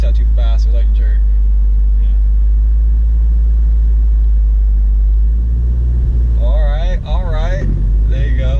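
A manual-transmission car idles with a low, steady engine rumble as the clutch is slowly let out, the drone shifting and rising slightly near the end while people talk over it.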